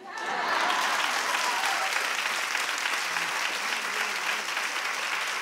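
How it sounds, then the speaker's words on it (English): Sustained applause from a studio audience on a daytime talk show, dense and steady throughout with no talk over it. "Clap if she needs to stay to show them."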